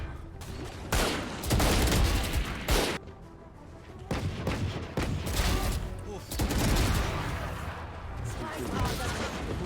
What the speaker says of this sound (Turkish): Phantom'la vuramadıklarımı Guardian'la vuruyorum